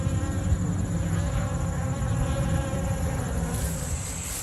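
Honey bees buzz around a hive in Kentucky in October, a dense, continuous close hum of many wings with a steady drone and no voices.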